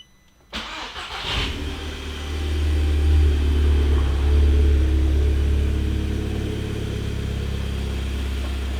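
An Audi TTS tuned to APR Stage 3 cranks and fires up with a sharp burst, then settles into a steady, deep idle that rumbles on close and loud without speech.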